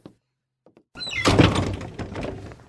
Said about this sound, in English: Shut the door, Chester